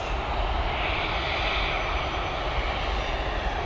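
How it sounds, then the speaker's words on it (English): An Airbus A320 departing Dublin Airport gives a steady, broad engine roar that holds evenly throughout with no talk over it. "our next departure is an Airbus A320 with that rugby livery, Captain Shane's favourite plane."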